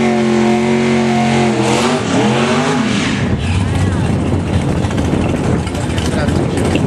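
A Vauxhall Chevette drag racing car fitted with a big Chevrolet engine of almost 10,000 cc, loud and close, its engine revving and rising in pitch before settling into a steady roar at a drag race.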